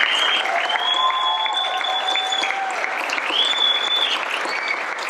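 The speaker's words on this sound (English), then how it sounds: "Folks, please give it up for Tom O'Donoghue." A crowd at a Gaelic football club's golden jubilee celebration applauds warmly and continuously, with sharp whistles cutting through the clapping twice.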